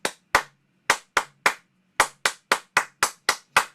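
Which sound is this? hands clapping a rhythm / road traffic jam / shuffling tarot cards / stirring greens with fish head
hands clapping a rhythm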